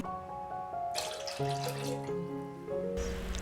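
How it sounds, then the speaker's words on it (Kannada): Water pours steadily into curd in a kitchen vessel for buttermilk, a continuous close splashing flow that shifts in pitch as the container fills, with no talk. "ಇದ್ರ ಜೊತೆಗೆ ಎರಡು ಕಪ್ಪಷ್ಟು ನೀರನ್ನು ಹಾಕ್ಕೊಳ್ತಾ ಇದ್ದೀನಿ"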